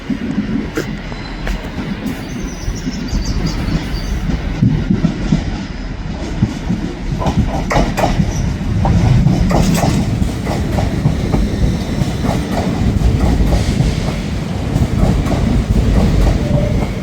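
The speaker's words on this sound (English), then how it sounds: "The Avanti snake snaking its way into Crewe Station." Avanti West Coast train pulling into Crewe Station, passing close by with a steady heavy rumble and rhythmic clickety-clack of wheels over rail joints, loud and continuous throughout with no talk.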